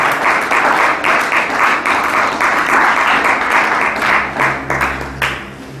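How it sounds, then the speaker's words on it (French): A church congregation at a prayer seminar breaks into loud, sustained applause, dense clapping filling the space for several seconds before thinning out near the end. "Nous acclamons le Seigneur si tu es béni."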